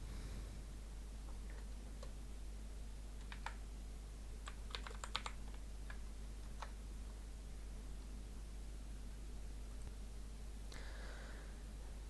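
Keys clack on a computer keyboard as a username and password are typed in short, quiet bursts of clicks, mostly in the middle of the stretch, over a low steady hum.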